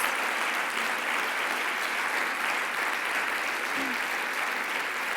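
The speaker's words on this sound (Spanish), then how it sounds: "Dale un buen aplauso a Dios." Church congregation applauding continuously, a dense, even patter of many hands clapping from start to finish with no talk over it.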